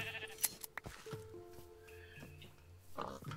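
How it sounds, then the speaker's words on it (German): Sheep bleat in Minecraft, several short calls at close to middle range over quiet game ambience, with no talking. "Oh, hier gibt es aber viele, viele Schafe."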